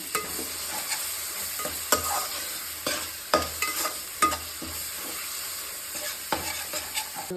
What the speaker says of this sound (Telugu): ఒక స్పూన్ కసూరి మేతి, దీన్ని బాగా కలుపుకుందాం.